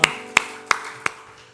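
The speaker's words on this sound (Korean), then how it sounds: "박수하겠습니다." A church congregation at Sunday worship claps in unison: four sharp, evenly spaced claps about a third of a second apart, loud and near, then a quiet room.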